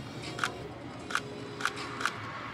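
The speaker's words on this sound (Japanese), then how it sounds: "で、これがシャッターオンです。" A Sony FX3 mirrorless camera's shutter firing four times at a Sony Store, each a crisp short click spaced about half a second apart, close and faint over quiet room noise.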